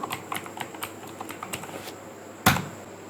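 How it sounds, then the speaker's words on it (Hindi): Fingers type a short web address on a laptop computer keyboard, a quick run of light, close key clicks followed by one louder press near the end. "यहाँ अब हम अपने ब्राउज़र में लिखेंगे लोकल होस्ट /डैशबोर्ड।"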